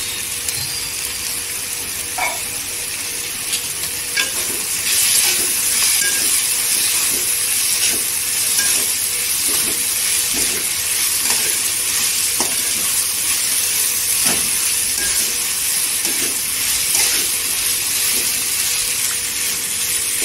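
Washed dried fish (sukat) sizzles steadily in hot oil in a home kitchen, a loud, continuous frying hiss broken by light stirring clicks throughout.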